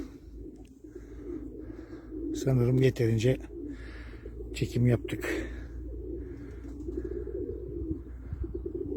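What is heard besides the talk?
white Istanbul pigeons cooing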